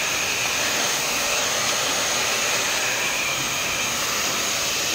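A hair dryer blows continuously at close range, a loud, even whooshing roar with no change in level from start to finish.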